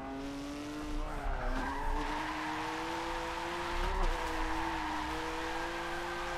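Tires skid continuously under handbrake drifting in Forza 7 on a 900-degree steering wheel, over a steady, loud, revving car engine, with brief shifts in pitch as the car slides.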